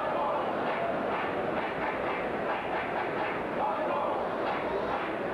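Dense stadium crowd at a New York Cosmos versus Cologne football match, a steady broadband roar of cheering and chanting that holds constant and loud throughout without breaks.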